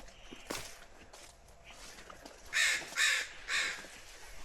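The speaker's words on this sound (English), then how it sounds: "the crows are still very upset with us" Crows caw three times in quick succession near a harbor in Alaska, loud and close, after softer distant calls and light footsteps on the ground.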